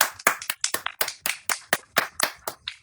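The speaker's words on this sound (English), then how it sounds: "Let's give a round of applause." Audience applause after a call for a round of hands at a comedy or stage show, heard as a run of sharp, separate claps in quick rhythm, fairly close and moderately loud, with no talk over it.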